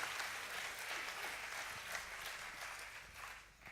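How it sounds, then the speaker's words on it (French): A crowd at an award finale applauds a prize winner, a soft, dense wash of clapping from a distance, steady throughout and tapering slightly at the end. "Applaudissez là"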